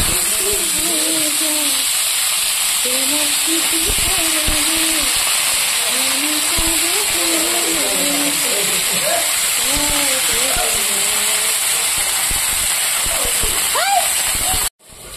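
Vegetables tossed into hot oil with nigella seeds in a kadai give off a steady, loud hissing sizzle that runs nearly unbroken, while someone talks over it throughout.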